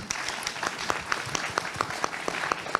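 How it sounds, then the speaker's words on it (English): A forum audience claps, a steady patter of many hands at moderate loudness with individual claps standing out. "We always have time for applause."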